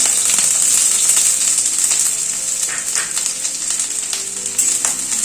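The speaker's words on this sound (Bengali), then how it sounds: "হাই ফ্লেমে কিন্তু পেঁয়াজটা ভাজছি" Thin sliced onion rings fry in hot oil over a high flame, giving a loud, steady, continuous sizzle with no talking.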